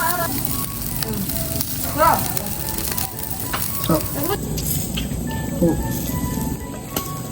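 Chicken intestine barbecue (isaw) sizzles and crackles on an outdoor grill in a continuous close frying hiss, while people chat in Tagalog over it.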